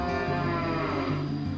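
A single cow giving a long, deep, loud moo close by, alone without talk, on a cattle farm that breeds and fattens superior-grade beef cattle.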